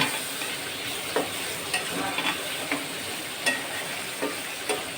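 Pabda fish is stirred gently in mustard sauce in a sizzling pan. Soft spatula scrapes repeat about every half second over a constant frying hiss.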